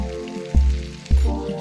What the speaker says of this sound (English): our chicken has been frying with our ghost pepper coating for about 6 to 8 minutes